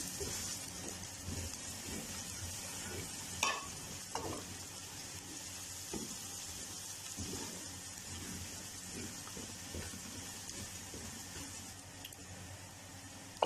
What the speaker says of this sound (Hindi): मसाले हमारे अच्छी तरह भून चुके हैं